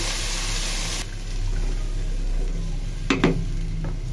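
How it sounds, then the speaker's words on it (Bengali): Hot water hits rice and deep-browned onions frying in a pot for pulao: a loud hiss for about a second, then a softer simmering bubble with a brief splash near the end. "এখন আমি গরম পানিটা দিয়ে দিই।"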